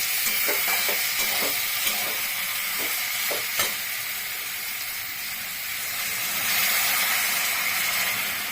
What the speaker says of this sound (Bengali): এই বাটি দিয়ে এক বাটি জল দিলাম আমি